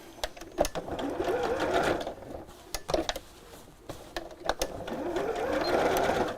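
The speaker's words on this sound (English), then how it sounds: "And again, just sew in a little box just to cover up the end of the" Home sewing machine running a short stitch length of 2.2 to sew a small box over the cut end of a ribbon, with close mechanical whirring in bursts separated by brief pauses and clicks.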